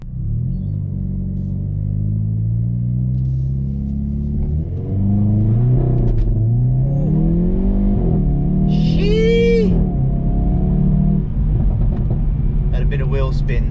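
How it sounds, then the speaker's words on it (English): A Hyundai i30N with a dual-clutch gearbox pulls away with a deep engine rumble that swells as it accelerates, loud and close, with a short tyre screech of wheel spin partway through. "Bit of wheel spin."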